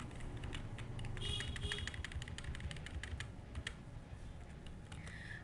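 Soft, steady typing on a computer keyboard, faint rapid taps over a constant background hum, with no voices.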